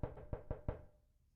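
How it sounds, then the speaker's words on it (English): A knocking sound effect from a Twitter ARG: four sharp, evenly spaced knocks in quick succession, close and clear, followed by a fading tail and silence. "The funny knock knock."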